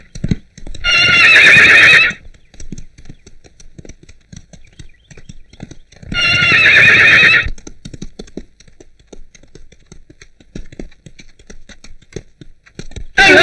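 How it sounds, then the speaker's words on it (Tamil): A wild, unruly horse in a film scene gives two loud, shrill whinnies a few seconds apart, with hooves clip-clopping steadily in between and after. "அந்த முரட்டு குதிரை யாருக்கு அடங்க மாட்டேங்குது"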